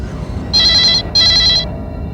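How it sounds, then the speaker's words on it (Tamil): A telephone rings twice in a Tamil crime drama scene. The rings are two loud, bright bursts of about half a second each, separated by a short gap, with no talking over them. "Come on, pick up the phone dear."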